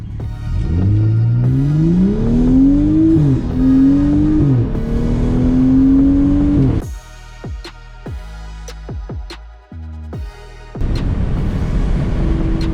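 A car with a tuned ZF 8-speed transmission accelerates hard, engine pitch climbing and dropping through several quick upshifts, then a rapid string of sharp crackles and pops as the run ends and the engine note returns.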